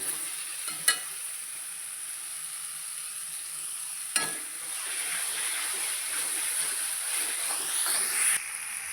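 Tomato drops into ginger and garlic sautéing in a pan for chicken biryani, with a couple of sharp clicks followed by a steady, close sizzling hiss and light stirring throughout.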